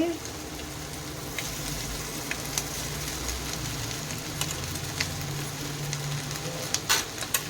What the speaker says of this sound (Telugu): ఇలా ఒక 2-3 నిమిషాలు బాగా ఫ్రై చేసుకున్న తర్వాత